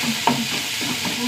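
Onion and curry leaves fry in hot oil, giving a continuous close sizzle with a faint scrape of stirring and no voices.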